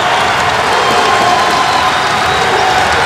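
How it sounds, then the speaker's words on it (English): Loud, steady crowd noise fills a Fordham basketball game against UMass at Rose Hill, with cheering, clapping and shouts blended into an unbroken roar. "Crowd getting into it at Rose Hill"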